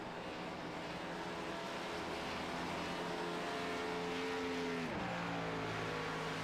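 Race car engines roar continuously on a superspeedway in the iRacing video game, a loud sustained whine of several cars at full speed with a pitch drop near the end as one passes by.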